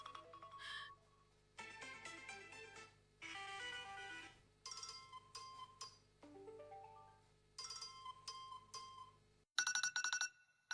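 A series of different phone alarm ringtones plays one after another, bright chiming melodies separated by short pauses, ending on a sharp, shrill ring.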